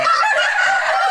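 A rooster's crow is caught mid-call as a brief, loud, close burst of about a second, heard on its own.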